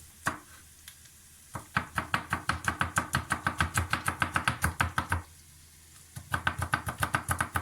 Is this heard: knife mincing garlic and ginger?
yes